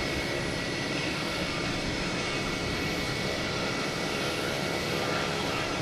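A WestJet airliner's jet engines at Boston Logan Airport make a continuous broadband roar that holds steady and fairly distant throughout, with no talk.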